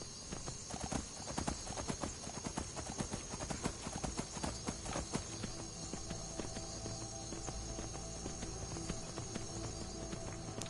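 Horse hooves clip-clop steadily in Skyrim, a quick, continuous rhythm of faint hoofbeats with a soft ambient bed and a brief low voice.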